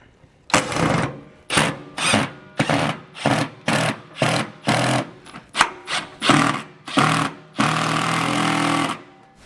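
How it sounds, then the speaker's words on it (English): A power drill drives screws in to fasten MORryde StepAbove RV steps, with about a dozen loud, close whirring bursts separated by brief pauses, ending in one longer sustained run. "We got the 6 remaining screws. I'm just going to put those in to hold down the steps."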